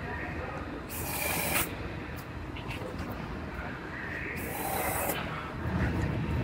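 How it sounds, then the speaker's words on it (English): Rust protection is sprayed inside welded car body areas in a body shop, with two sustained hissing bursts of a few seconds each over a quiet room background. "I spray it on all the inside areas where I welded to protect it from rusting"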